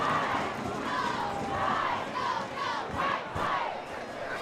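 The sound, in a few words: fired-up football crowd cheering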